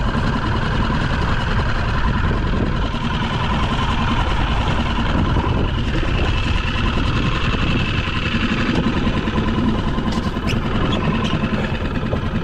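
A Parsun 6hp four-stroke outboard motor runs steadily on a boat, a continuous close engine drone with a constant throbbing hum and no breaks.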